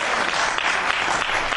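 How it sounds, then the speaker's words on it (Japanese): Applause fills a parliamentary committee room during a special House of Representatives session, a dense, continuous wash of many hands clapping that stays steady and fairly loud throughout. "なんでこれ拍手があるのかわからないんですが"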